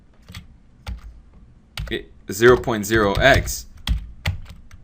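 Keystrokes on a computer keyboard while entering a formula in a spreadsheet, several separate taps that come before and after a person talking.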